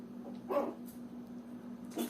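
A small dog barks a couple of times, short sharp yaps separated by a pause over a steady low hum in the background.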